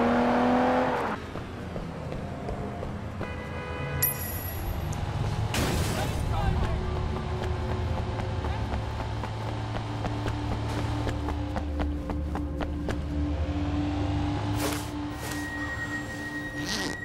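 Car engine droning steadily while driving in Sleeping Dogs, a continuous low hum with occasional revs and rising tones, with someone talking over it.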